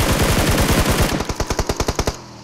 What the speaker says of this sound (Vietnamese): bên ngoài này có tiếng súng anh em ơi